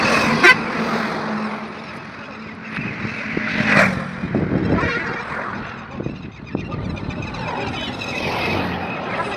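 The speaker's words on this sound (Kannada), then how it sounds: "ಇವಾಗ ನೀವು ಈ ಬರ್ಡ್ಸ್ ಸೌಂಡ್ನ ಕೇಳಿದ್ರಿ, ಎಷ್ಟು ಚೆನ್ನಾಗಿದೆ ಅಲ್ವಾ ಬರ್ಡ್ಸ್ ಸೌಂಡು" Birds call beside a road on the drive from Ooty to Bangalore, with honking, goose-like cries scattered over a steady wash of wind and traffic noise.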